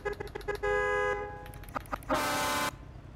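Truck horn on a Hennessey VelociRaptor 6x6 mod in Euro Truck Simulator 2, blaring in two sustained blasts, the second brighter and harsher, between short taps and clicks.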